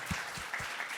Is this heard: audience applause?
yes